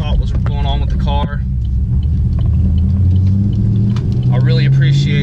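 A 2015 Chevrolet Camaro SS rolling up to a house, its deep engine rumble and road noise running steadily beneath someone talking.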